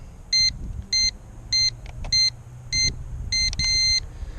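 Snaptain SP500 foldable GPS drone sounding a series of short, bright electronic beeps in regular pairs and bursts after landing, with a steady low rumble of outdoor background noise beneath.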